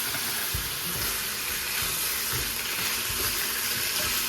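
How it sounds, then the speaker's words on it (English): Beef sizzling in a pan at high heat for hibachi fried rice, a steady loud crackle and hiss with occasional low thumps from stirring, no talk. "I just fry these up kind of on a high temperature here"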